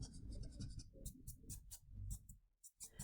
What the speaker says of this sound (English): I'm going to erase that circle or oval